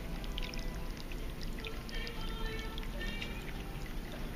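A medium tabletop water fountain with a silk ficus tree and rocky cascades burbles steadily, with continuous close trickling and splashing water that holds an even level throughout.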